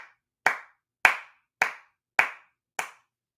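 Five sharp, evenly spaced hand claps ring out alone against silence, each a crisp isolated smack with a quick decay.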